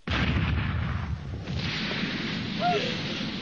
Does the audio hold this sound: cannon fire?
yes